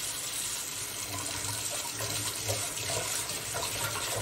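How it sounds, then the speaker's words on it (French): Hot water runs steadily from a household tap into a sink or container, a continuous close splashing gush with no speech over it. "on va faire couler un petit peu d'eau chaude"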